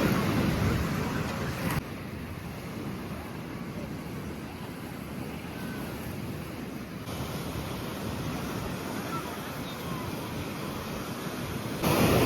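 Waves washing onto a wide Black Sea beach at Karolino-Buhaz, a steady broadband surf wash blended with wind buffeting the microphone, continuous and moderately loud.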